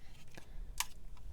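A small TEMU label maker's cutter snips off a printed label, giving a few quiet, brief clicks and one sharper crisp snap near the middle, close up against a soft room background.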